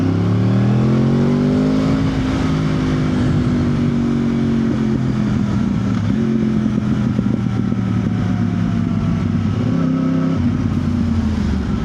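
A Yamaha R1 motorcycle pulls away in second gear, its engine note loud and steady and close by, rising in pitch as it accelerates, with a gear-shift dip partway through and no voices.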